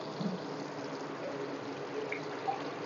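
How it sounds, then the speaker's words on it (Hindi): Chickpea cooking water poured from a glass into a cooking pot while making chana pulao, a soft, steady watery splash and trickle throughout, fairly quiet and without talk. "अब हम इसमें 1 गिलास जो चनों का पानी था वो शामिल करेंगे"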